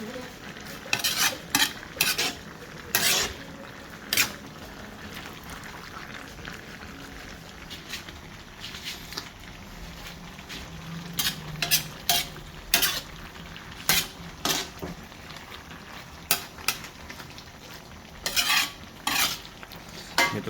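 Igado is stirred in a pan, with a ladle clanking and scraping against the metal in irregular bursts over a low, steady frying hiss.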